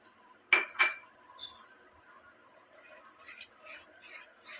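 A spoon stirs rajgira flour roasting in ghee in a pan for sukhadi. Two sharp metallic clinks open the sound, then softer scraping and light taps follow at close range.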